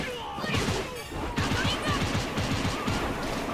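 Gatling gun fire in One Piece: World Seeker, rendered as a rapid, steady stream of close, punchy shots that starts after a brief pause and carries on for several seconds.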